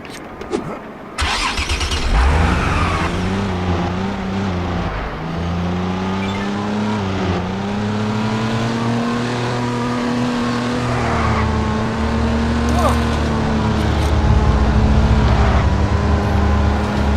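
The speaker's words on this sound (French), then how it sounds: "On va aller monter dans la petite voiture" A small car drives in LEGO City Undercover on Wii U, its steady engine hum rising and falling as it accelerates and cruises, loud and continuous throughout with a brief start-up burst at the beginning.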